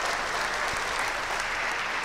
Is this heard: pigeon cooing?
no